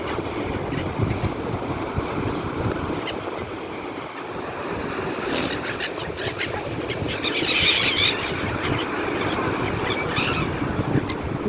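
Cold wind gusts buffet the microphone by the Black Sea in Odesa, with the wash of surf rolling underneath, steady and fairly loud without any talking.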